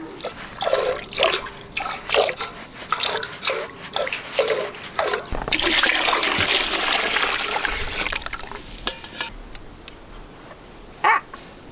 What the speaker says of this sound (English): getting sprayed with milk